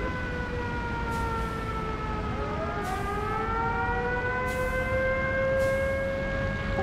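An air raid siren in a VR Spitfire Mk.IX dogfight game, a steady wailing tone with several overlapping pitches bending and rising, continuous and loud throughout, with no talking.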